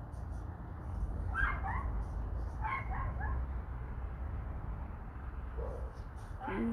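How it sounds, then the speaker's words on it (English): Dogs barking outdoors at night, a few distant short bark bursts recurring over a low, steady background rumble. "I think it's just dogs. I don't think it's coyotes yet."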